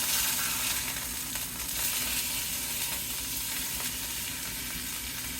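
Chicken sizzles steadily in a hot skillet after being flipped, a close, even frying crackle with faint scraping, no voices.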